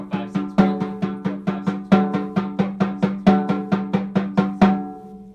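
Snare drum playing a steady series of buzz rolls, each a short sustained press of roughly a dotted-quarter length, separated by small clean gaps; about eighteen evenly spaced, loud, close strokes with a sharp attack and fading buzz, no voices.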